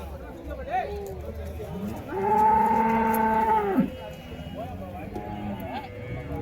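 Native bulls at a cattle market in Uthangarai, one loud drawn-out moo rising near the middle, with someone talking before and after and faint market background.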